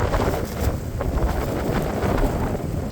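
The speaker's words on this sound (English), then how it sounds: "it's still 100 million miles an hour worth of wind" Strong, steady wind blasts across an outdoor microphone while bodywork and paint prep go on around a 1989 Chevy K1500 truck, a continuous loud roar with gusty low rumble and no speech.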